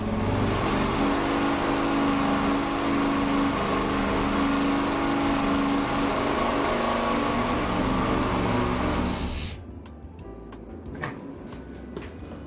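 A turbocharged MoHo 4-4-0 engine roars loud and steady under load on a dyno for about nine seconds, then cuts back to a quieter idle with clicks and clatter.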